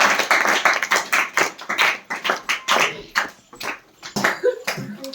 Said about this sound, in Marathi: ईश्वरीसाठी आपण खूप छान टाळ्या वाजवूया